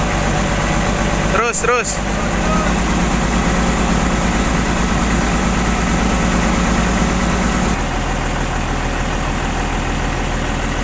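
A Komatsu PC200-6 excavator engine runs loud and close, holding a steady heavy drone that shifts down in pitch partway through, with a brief burst of a man's speech near the start.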